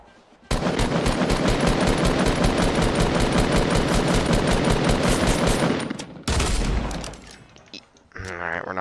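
Rapid automatic gunfire in the Fortnite battle royale game, a loud sustained burst of closely spaced shots lasting several seconds, then a shorter second burst and a few trailing game sounds.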